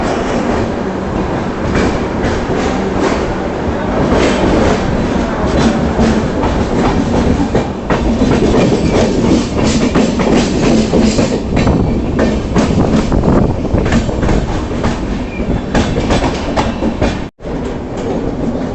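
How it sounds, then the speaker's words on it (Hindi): The Yoga Express passenger train, just departed Jaipur Junction, rolls along the rails with a loud, steady rumble and rhythmic clattering of wheels over track joints, heard from inside, continuing throughout. "दोस्तों 15 मिनट रुकने के बाद हमारी योगा एक्सप्रेस का डिपार्चर हो चुका है जयपुर जंक्शन रेलवे स्टेशन से।"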